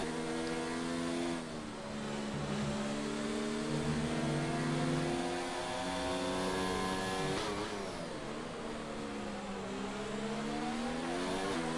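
An F1 race car in a video game at the Hungary circuit accelerates hard, its high engine note climbing steadily through the gears, loud and continuous with a brief dip before pulling away again.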